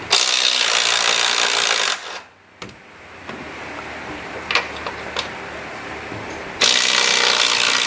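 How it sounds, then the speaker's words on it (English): A tool works 13mm bolts loose from the top of a car strut on a 2005 Ford Taurus: loud sustained bursts at the start and end, with quieter scattered metallic clicks and ticks between, and no talk. "We're taking the 13mm bolts off the top of the strut."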